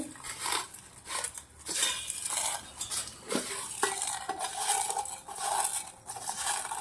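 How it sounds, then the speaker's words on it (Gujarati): Papad being crushed into small pieces by hand in a kitchen, heard as crisp, irregular crackling and rustling bursts with light clinks, close and fairly quiet, with no talking. "આવી રીતના પાપડનો ચૂરો કરી દેવાનો છે."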